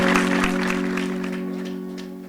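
An audience claps at an awards ceremony in India; a brief burst of applause fades quickly away over a steady electrical hum.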